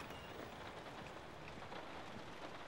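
Steady, dense rain hiss from The Last of Us Remastered, a continuous broadband wash with no distinct drops or breaks, moderately quiet and unbroken for the whole stretch.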